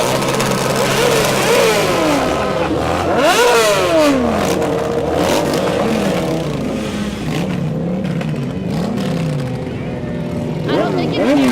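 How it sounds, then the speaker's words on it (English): Motorcycles in the Fort Walton Beach Christmas Parade of 2017 rev and roar continuously, with engine pitches rising and falling as bikes pass, loud and close, while people talk underneath. "they come together as a family to enjoy motorcycle riding"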